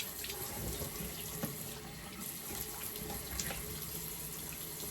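Tap water runs steadily into a bathroom sink during a nighttime face-washing routine, a soft continuous splash with small spatters as hands move through the stream, no talk.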